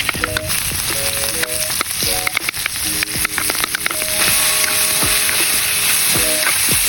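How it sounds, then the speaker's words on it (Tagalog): Mung bean stew ingredients sautéing in a pan, a steady loud sizzle with clinks and scrapes of stirring throughout, no talking. "ginisa na natin"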